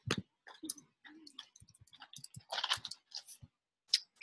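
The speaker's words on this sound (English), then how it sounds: "Here's my typing again." Keyboard typing in irregular bursts of light clicks and taps, close and fairly quiet, with short pauses between clusters and no talking.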